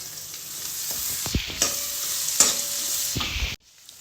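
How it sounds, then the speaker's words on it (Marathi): Chopped onion fries in oil for rajma, a soft constant sizzle broken by several scraping stirs of a spoon, close and moderately loud, ending abruptly. "त्यानंतर आपल्याला चिरलेला कांदा टाकून घ्यायचा आहे तेलामध्ये आणि व्यवस्थित छानपैकी परतून घ्यायचा आहे"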